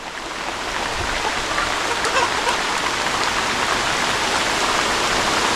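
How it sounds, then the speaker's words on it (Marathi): Steady, dense rain falls on Konkan village farmland, a continuous close hiss of drops that swells slightly after the first second and then holds evenly, with no voices. "आज निघता निघता पावसाने आहे ना सुरुवात केलेली आहे ही बघा"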